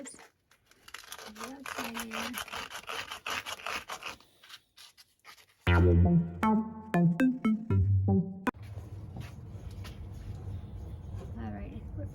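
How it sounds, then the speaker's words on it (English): A copper pipe's edges are sanded by hand, giving a rough, rapid scratching and scraping rasp close up, with someone talking over part of it and a few sharper knocks partway through. "Sanding a little bit on the edges."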